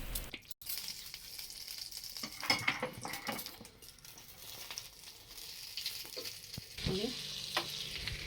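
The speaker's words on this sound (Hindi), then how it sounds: "तो यहाँ पे जो मैं तड़का लगा रही हूँ" Oil sizzles and crackles steadily as spices hit hot mustard oil or butter in a tadka tempering, with a sharper burst of spattering near the end and faint utensil clinks.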